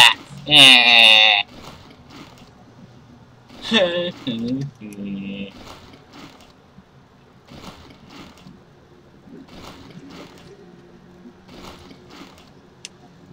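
Sheep bleating in the Warcraft 3 game, two loud bleats near the start and another around four seconds, followed by quieter game sounds and faint clicks.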